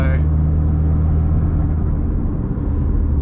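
The engine of a Mitsubishi Evo X with a newly fitted turbo builds boost under load. A loud, steady, deep rumble and drone carries through the cabin, with a voice talking over it.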